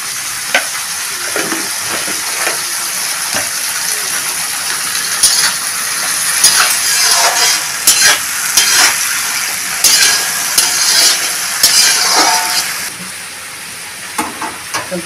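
An egg fries in a pan under a steady sizzle, broken by frequent metallic scrapes and taps of a spatula stirring, close and loud throughout.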